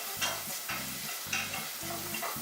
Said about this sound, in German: Butter rein, Zwiebeln rein. Das Ganze dann schön glasig werden lassen.